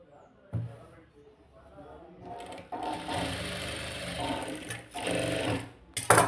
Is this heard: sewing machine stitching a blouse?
yes